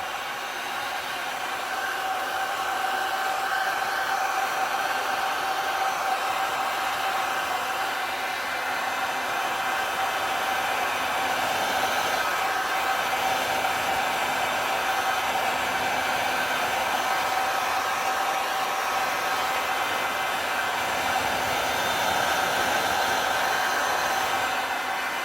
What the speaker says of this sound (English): So I'm going to grab the heat gun while that's still really wet.